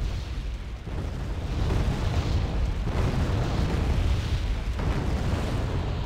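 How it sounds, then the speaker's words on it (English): Artillery strike explosions in a military video game, Gavle 4v4, come as deep rolling booms and rumbling blasts that overlap into a heavy, sustained roar with several fresh impacts, no voices. "Wasted artillery strike."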